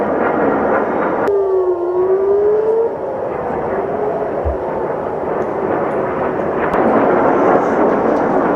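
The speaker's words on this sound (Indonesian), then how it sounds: "ledakan terdengar jelas saat rudal pertahanan udara diluncurkan untuk mencegat rudal Iran" Sharp, distant booms of air defense missiles intercepting Iranian missiles over Tel Aviv crack through a steady roar of noise, with a faint wavering air-raid siren tone drifting in the background.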